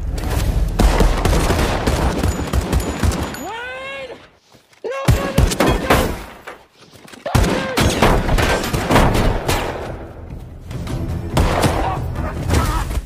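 Film gunfire: bursts of rapid shots crackle and thud in dense volleys, broken by a brief lull with a rising whine and scattered loud shots.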